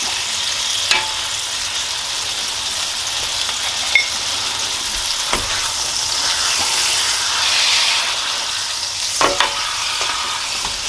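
Steak frying in a hot pan gives a loud, steady sizzle throughout, broken by a few sharp crackles and pops. No one speaks.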